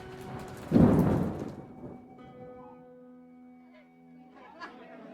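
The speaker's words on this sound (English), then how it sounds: "Tonight, there is a terrible storm, and it is raining." A loud thunderclap rumbles up and slowly fades, followed by soft rain and faint distant chatter in the background.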